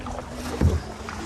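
A paddle dips and pulls through the water as a small paddled boat moves along, one soft splash-like stroke rising near the middle over a steady wash of water and wind.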